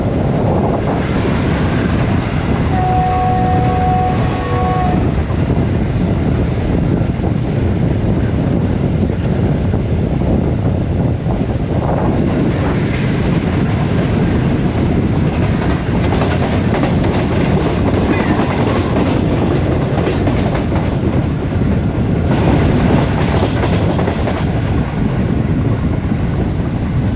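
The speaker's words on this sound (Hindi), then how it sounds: "ट्रेन हमारी इस वक्त शहीदा वाला रेलवे स्टेशन से पास थ्रू हो रही" A Green Line passenger train runs through Shahidanwala railway station with a steady, loud rumble and clatter of wheels over track, wind buffeting throughout, and a brief horn-like tone early on.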